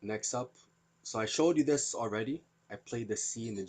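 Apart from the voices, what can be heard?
None of the usual background noises is heard.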